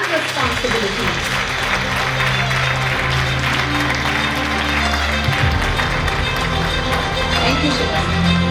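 An audience at a school investiture ceremony applauds as student leaders accept their badges, a dense continuous wash of clapping heard alongside background music and some voices.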